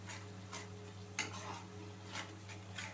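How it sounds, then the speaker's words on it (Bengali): Tomato, ginger and green chili paste stirred in a pan for a chana kaliya korma, soft scraping strokes recurring about every half second over a steady low hum, quiet and close, with no voices. "এই পেস্টটা দিয়ে আমি ভালোভাবে মিশিয়ে নিচ্ছি"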